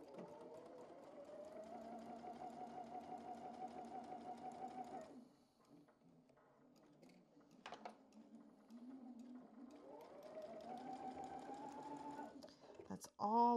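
A sewing machine stitches quilt block pieces in two steady rhythmic bursts, pausing in between for a few faint handling sounds before running again, close and clear.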